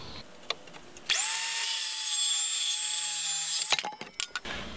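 A power saw cuts a wooden header board for tiny house window and door framing, a loud steady whine lasting a few seconds, then spinning down, followed by clunks and knocks of handling wood.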